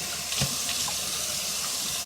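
A kitchen sink faucet runs steadily while the sink is being cleaned after washing potatoes, a continuous close hiss of flowing water with faint clinks underneath.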